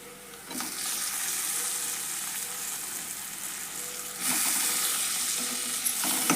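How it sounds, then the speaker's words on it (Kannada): Chopped tomatoes frying in a pan for a lentil palya, a steady hissing sizzle that grows louder partway through, close and without talk. "ಈಗ ಟೊಮೆಟೊ ಎಲ್ಲ ಫ್ರೈ ಮಾಡೋಣ"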